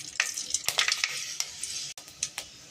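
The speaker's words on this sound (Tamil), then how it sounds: "எண்ணெய் நல்லா காஞ்சி கடுகு போட்டுக்கலாம்." Mustard seeds and fenugreek sizzling in hot oil in a pan on the stove, a steady crackling hiss broken by sharp pops and spatters, close and fairly loud with no voices.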